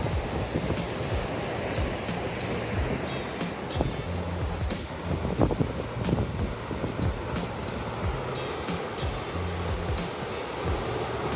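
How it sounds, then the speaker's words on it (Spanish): Sea surf rolls onto the shore at Albufeira in Portugal, a continuous broad wash of breaking waves with some wind, steady and moderately loud, with no talking. "no hay nada más lindo que escuchar el sonido del mar de fondo"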